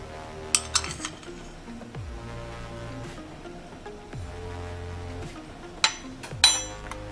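A metal spoon clinks against a bowl while two spoons of sugar go into ogi made with corn flour, a few sharp close taps and scrapes over a quiet, slightly hissy background.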